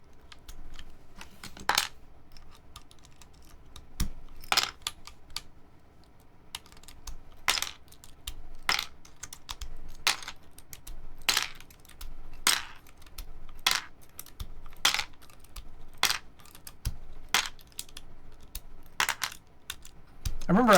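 Plastic keycaps on a keyboard being handled, giving sharp, irregular clicks and clacks close up every second or so against a quiet background.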